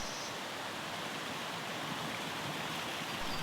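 A tiny waterfall, only about waist high, spills in a forest, giving a steady broadband hiss of falling water that holds even and close with no voices.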